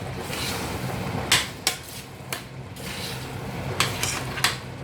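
A spoon stirs spaghetti bolognese sauce in a pot, making a soft scraping swirl broken by several sharp knocks of utensil against metal, close and moderately loud, with no talking.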